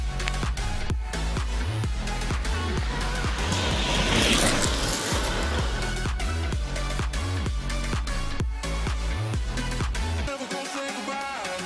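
A Traxxas Maxx 4S RC truck with a wide kit launches off jumps, its motor whining and surging loudly and continuously over scrabbling tires on dirt, with a brief drop in level near the end.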